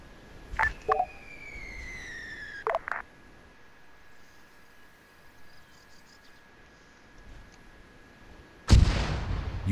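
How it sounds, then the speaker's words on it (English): Mortar fire in the Operation Black Jacket game, with a few sharp distant thumps early on and a heavier, louder blast near the end over a quiet background, along with tonal radio beeps. "Private, this is Alpha, be advised, we're taking mortar fire."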